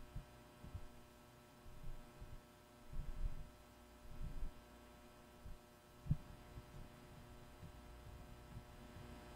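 Low, throbbing hum with soft rhythmic pulses in a Backrooms horror video game, a VHS-style effect that swells and fades quietly on its own without any voices.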